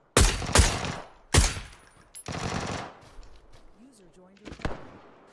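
PUBG shotgun blasts: heavy booming shots, two close together, then another and a further burst, loud and near, with game sounds and talk in the background.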